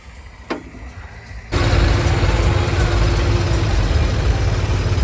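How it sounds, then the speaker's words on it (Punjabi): A tractor engine starts up and then runs steadily at a loud, low rumble on a farm, with a faint whine riding over it, as the tractor slips. "ਟਰੈਕਟਰ ਸਲਿੱਪ ਮਾਰੀ ਜਾਂਦਾ"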